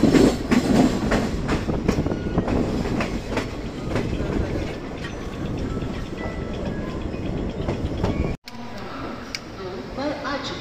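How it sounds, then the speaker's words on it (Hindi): The Chennai–New Delhi special express, the GT Express, train 12615, rolls along the rails with loud rhythmic clickety-clack and rumble heard from on board, briefly cutting out before continuing more quietly. "Chennai new Delhi special express from Chennai to new Delhi तो फ्रेंड्स 1987 किलोमीटर का सफर तय करने के बाद हमारी ट्रेन"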